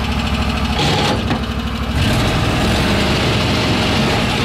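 Berkut snowmobile engine idling at high revs, a loud, steady, close rumble with a rough mechanical rattle running the whole time, no talk.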